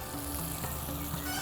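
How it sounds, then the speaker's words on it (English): Slit green chilies sizzle steadily as they fry in hot oil in a pan while Namkeen Gosht is cooked, a continuous close crackling hiss with no talking. "you want the green chilies to start frying also"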